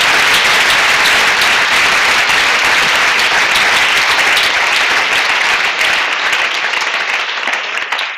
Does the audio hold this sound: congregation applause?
yes